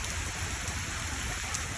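Steady rain falls outdoors near old trees, a dense, even hiss with soft patter and no voices throughout.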